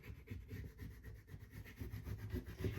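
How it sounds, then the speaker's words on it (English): A scraper tool glides over vinyl pressed onto a frame, giving soft, quiet, rhythmic rubbing strokes close by with no talking. "You can use your hand or your scrape tool, and you just want to glide it down."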